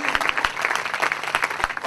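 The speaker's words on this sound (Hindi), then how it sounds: "Can you all give a mighty clap to Jesus?" Congregation clapping at a church service, a brisk, uneven burst of many hands spread through the room, fairly loud and steady with faint voices mixed in.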